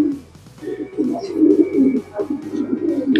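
Low, throaty cooing from a racing pigeon at a loft, close and repeated in soft rolling phrases, with faint chirps in the background.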